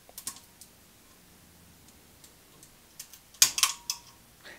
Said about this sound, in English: that cracking is just the sound of the print breaking away from the bed